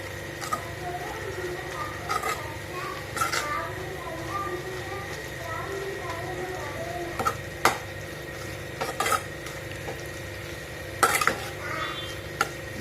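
Chow chow poriyal being stirred in a pan after spice powder goes in, with scattered spoon scrapes and taps against the metal over a quiet sizzle, while a voice talks over it.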